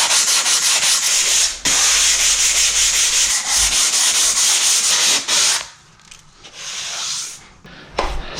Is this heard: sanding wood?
yes